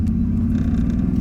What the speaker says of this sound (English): you can hear a bit of the twin turbo that is in the car